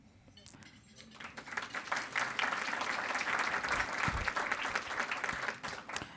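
Audience applause fills a celebration dinner, a dense wash of clapping that swells after a second and holds steady and loud to the end, with a few sharper claps standing out near the microphone.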